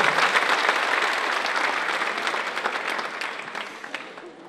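Audience applause at the Miko show in Tashkent, 2010: a dense, steady wash of clapping from a crowd that holds strong for several seconds and fades slightly toward the end.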